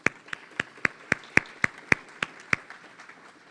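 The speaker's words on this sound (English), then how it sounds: "So let's give them a round of applause." Sparse, scattered clapping at a 2023 Pride conference, about ten distinct claps in a slow, uneven rhythm, moderately close and fairly quiet, then fading out.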